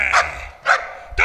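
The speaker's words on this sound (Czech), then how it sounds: "To je pes!" A dog barks three times in quick succession, loud and close, with short gaps between the sharp barks.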